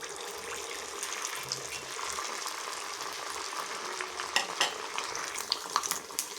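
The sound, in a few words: semolina snack frying in hot white oil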